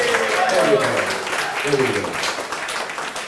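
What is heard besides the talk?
audience applause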